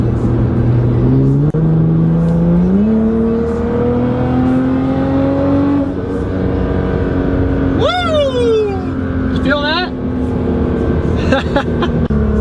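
A Nissan GT-R engine revs up in rising steps to a loud sustained drone, close and dominant, with a sharp whooshing sweep later and some background talk.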